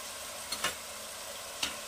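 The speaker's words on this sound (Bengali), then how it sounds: "এটা একটু ভাজা ভাজা হবে" Spices frying in a pan for a Bengali masala cauliflower dish, with garlic paste about to go in: a soft steady sizzle carries a few brief scraping stirs, close and quiet.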